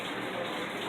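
Water running steadily in a prison bathroom by a condemned toilet, a faint continuous gushing hiss with no voices.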